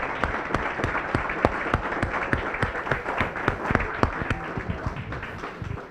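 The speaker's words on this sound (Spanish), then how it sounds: "Yo pido otro aplauso para ella." Steady audience applause at an evening discussion gathering in Colombia, a dense, even stream of sharp claps with a few louder individual hand strikes, sustained for several seconds without speech.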